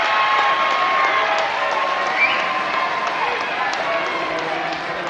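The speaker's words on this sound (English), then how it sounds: "It's a lively crowd here in Ventura." Lively crowd noise from spectators at a women's college basketball quarterfinal in Ventura, a steady broad roar with scattered claps and shouts running throughout, slightly easing toward the end.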